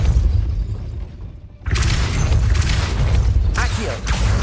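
A Depulso spell in Hogwarts Legacy strikes a gate, a sudden loud whooshing blast that cuts in after a brief lull, followed by a sustained rumbling crash and a second surge of impact noise.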